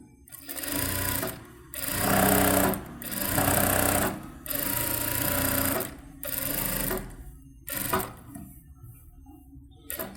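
A sewing machine stitches the neck edge of a saree blouse in repeated bursts of several seconds each, its rapid clattering whir close and loud, separated by short pauses.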